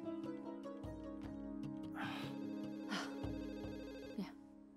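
A telephone rings repeatedly in an indoor scene, its electronic trill repeating in regular bursts at moderate level, with brief voices and movement breaking in between the rings.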